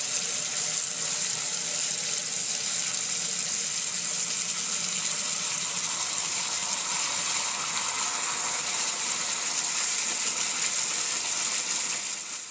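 Hot water runs continuously into a metal fuel tank being cleaned for restoration, a steady, even hiss and gush of flowing water lasting throughout, close and alone without any voices.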